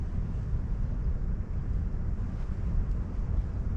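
Steady broadband wind rumble buffets the microphone at a campsite on the Wisconsin River, a low continuous roar with no voices.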